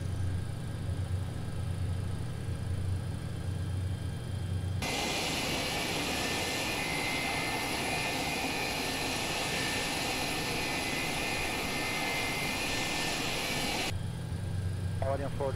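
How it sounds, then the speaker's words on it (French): McDonnell Douglas MD-80 engines heard from inside the passenger cabin in the X-Plane 12 flight simulator: a steady muffled jet roar with a high whine that starts abruptly and stops abruptly after about nine seconds. "Le son des moteurs en cabine passager."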